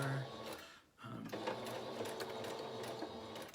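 A sewing machine runs in a fast continuous whir while stitching a face mask seam with a narrow allowance, with a brief pause partway through before the motor picks up again, fairly close and moderately loud.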